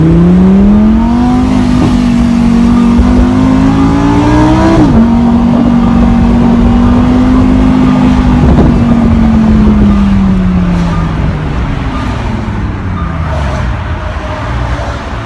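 A 2017 Lamborghini Huracan Spyder LP610-4 accelerates hard on a busy highway, its engine rising in pitch through a gear change and then holding a loud, sustained roar under heavy wind noise from inside the open cabin.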